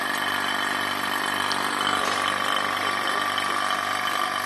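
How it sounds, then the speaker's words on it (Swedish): Water boiling vigorously inside a vacuum chamber, a steady dense bubbling and hissing rush with a pump-like hum, continuous and close throughout. "Och vi har vatten som kokar där inne."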